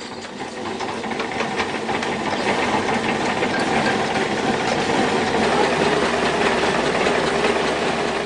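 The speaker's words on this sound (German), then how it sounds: "Heute wirft er den Motor der Mühle nur bei Bedarf an." A motor-driven maize feed mill for poultry feed runs steadily, giving a loud continuous mechanical drone and rattling grind that stays even throughout.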